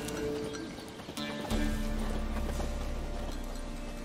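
Horse hooves clip-clop in The Witcher 3, a steady close trotting rhythm with a whinny, layered over game music and ambient sound.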